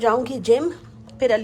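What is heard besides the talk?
No everyday noise stands out behind the speech.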